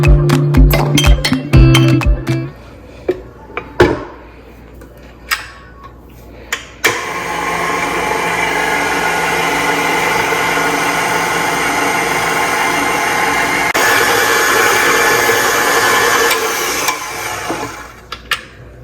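An electric stand mixer churns bread dough of flour and butter at steady speed, a loud continuous motor whir for about ten seconds, preceded and followed by sharp clacks and knocks of bowl and utensils.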